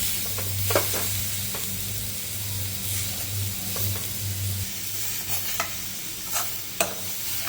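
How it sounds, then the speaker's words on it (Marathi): Raw jackfruit sizzles steadily in a wok while a utensil scrapes and clinks against the metal at irregular intervals, with a low hum underneath. "कढई खाली घेऊन व्यवस्थित हलवून एकजीव केले आहे"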